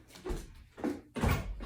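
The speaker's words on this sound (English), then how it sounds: "I got to open the door real quick for my puppy" A door opened quickly at home to let a puppy inside, giving a few soft thumps and rattles in three short bursts, fairly close, with no speech.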